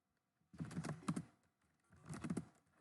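Bursts of rapid key clicks on a computer keyboard, two separate runs of typing close by with a brief pause between, with no talking.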